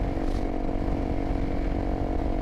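A 2024 Honda CRF 300L motorcycle engine runs with a steady, buzzy, loud drone heard close up throughout, without speech.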